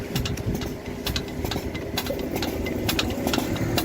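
An engine-driven pump runs at a steady idle-like drone while pulling syrupy oil from a tank at a work site, with close, fairly loud rhythmic mechanical ticking over the hum.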